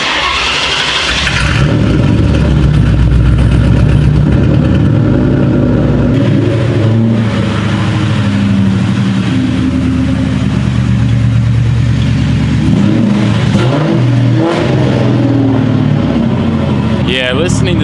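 A Ford Mustang engine starts and revs loudly, then settles into a deep rumbling idle with further revs, while voices talk over it.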